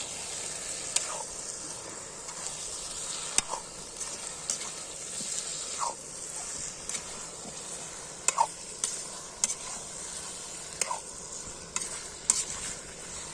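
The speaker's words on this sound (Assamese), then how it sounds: "এতিয়া আমি মাংস আৰু আলুখিনি দি দিম। এতিয়া এনেকৈ ভাজিম তাক অলপ সময়" Duck meat and potatoes fry in hot oil with spices over an outdoor fire, a steady sizzle broken every couple of seconds by sharp scrapes and knocks of a spoon stirring against the pan.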